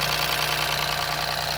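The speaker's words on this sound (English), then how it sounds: "engine is running, and also the vehicle has a rattling noise" A Ford Fiesta 1.0 EcoBoost engine idles with a low oil pressure warning, giving a steady dense hum with an even, continuous rattling texture throughout.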